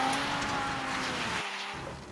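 A 2010 Nissan 370Z's 3.7-liter V6 gives a steady, loud exhaust drone that holds throughout, with a brief dip near the end before the tone returns.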